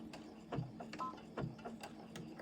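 A sewing machine back-stitches to lock a seam on a small fabric chap stick holder, running in a few short stop-start bursts of rattling stitching, close and moderately loud, with no talking.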